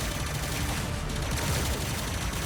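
Plasma spread shot blasting continuously in Terminator 2D: No Fate, a dense, steady barrage of rapid retro-style gunfire with no pauses.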